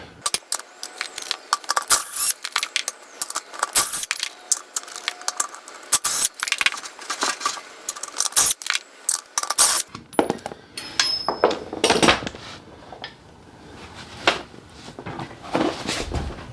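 A ratchet wrench clicks in quick, bursty runs on the rear hub of a Kubota B7100 tractor, with metallic clinks and rattles close by and no talking.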